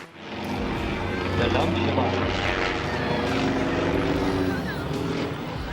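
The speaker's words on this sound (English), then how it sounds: "The custom-built red biplane was performing aerobatic maneuvers and did a downward spiral, but failed to pull up." A red custom-built biplane flies aerobatics at an air show, its engine holding a steady droning roar throughout, with voices faintly audible beneath it.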